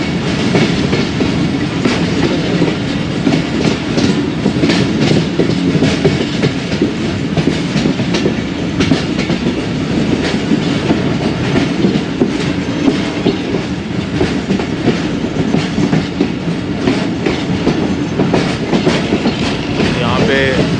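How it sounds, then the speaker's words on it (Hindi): Khyber Mail train running into Pattoki railway station on a cold, foggy Punjab morning: steady loud rumble with a rhythmic clickety-clack of wheels over rail joints throughout, as heard from inside the carriage. "और पत्तोकी रेलवे स्टेशन पहुंच रही है ट्रेन।"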